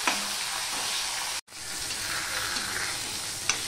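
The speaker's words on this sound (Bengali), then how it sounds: "এবার মাছের মাথাগুলোকে আমি ভেজে নেব, লাল লাল করেই ভেজে নেব" Fish heads frying in hot oil give a loud, dense, continuous sizzle close by. It cuts out for a moment partway through, then resumes with a brief clink near the end, and no voices are heard.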